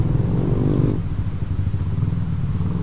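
Engine of a Honda Beat scooter running on Shell Advance oil, rising in a steady rev then settling into a loud, even idle-like drone close to the microphone, with no talk.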